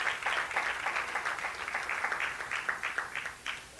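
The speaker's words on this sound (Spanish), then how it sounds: "Denle un aplauso fuerte al Señor." A church congregation claps for a man being honored, a moderate, somewhat distant patter of many hands with a loose rhythm that continues evenly throughout.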